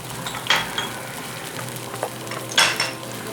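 Yogurt whisked with spices in a bowl for a mutton potato curry, soft scraping strokes with a few brighter clinks of utensil against the bowl, close and fairly quiet.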